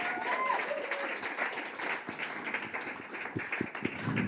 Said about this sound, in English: Give another round of applause, please.